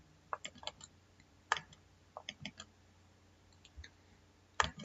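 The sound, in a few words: computer mouse double-click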